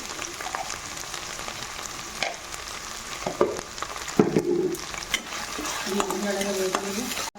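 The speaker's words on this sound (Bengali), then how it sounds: "কাশ্মীরি রেড চিলি পাউডার দিয়ে মশলাটা কষিয়ে নিয়েছি।" Masala with turmeric, salt and Kashmiri red chili powder sizzling in plenty of oil in a pan, with steady frying hiss and scraping stirs close by, no talk.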